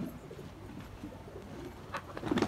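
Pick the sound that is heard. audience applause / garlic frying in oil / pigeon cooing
pigeon cooing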